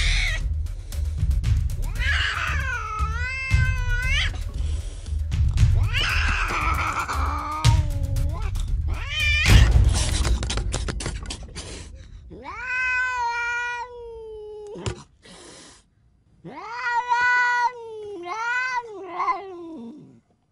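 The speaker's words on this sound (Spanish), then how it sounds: "La gata, encaramada a las mantas, gruñía y arqueaba el lomo" Cat sound effect in an audiobook: a series of loud, drawn-out meows and yowling caterwauls with rising and falling pitch, close and isolated, separated by short pauses with a brief silence near the end.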